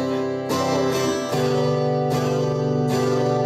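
Acoustic-style guitar chords strummed alone in a steady pattern, with three evenly spaced strums followed by two quicker ones, each attack bright and ringing into the next.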